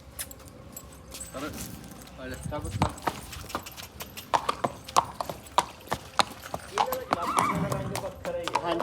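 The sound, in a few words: horse neighing and hooves clip-clopping at stud farm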